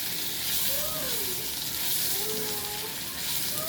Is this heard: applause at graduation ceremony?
no